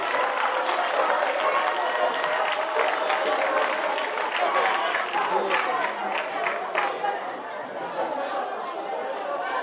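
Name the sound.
students clapping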